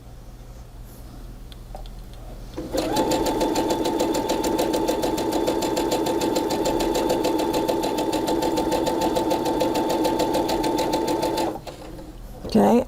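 A sewing machine stitching quilting fabric for a Tula Pink block, running in one continuous steady whir of rapid needle strokes for about nine seconds, with quiet handling before and after.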